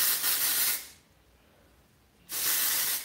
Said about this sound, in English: when I add in texture spray, I like to add it all throughout.